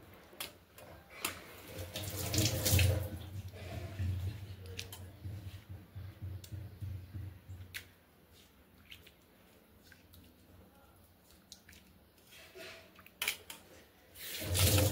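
Cold tap water runs while boiled potatoes are rinsed in a home kitchen sink during pav bhaji preparation, a steady splashing flow with clicks that fades midway and returns near the end.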